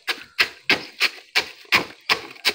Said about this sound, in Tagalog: Didikdikin ko yan hanggang sa pinong-pino.